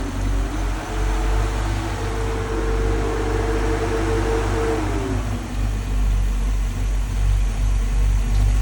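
Radiator cooling fans whir steadily on a 1968 Mustang with a swapped 5.0 engine, a constant loud low hum and broadband rush with an engine tone droning underneath throughout.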